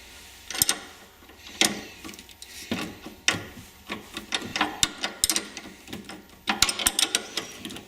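A ratchet loosens the positive battery terminal connection on a custom classic car during alternator replacement, giving close, irregular bursts of sharp metallic clicks with short pauses between strokes.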